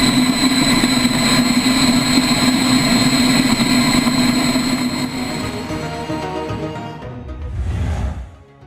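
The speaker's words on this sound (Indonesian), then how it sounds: "MTT Turbine Y2K Superbike." The MTT Turbine Y2K Superbike, a motorcycle powered by a helicopter-style turboshaft engine, gives off a loud, steady jet-like whine and roar that holds for several seconds, then fades and drops away toward the end.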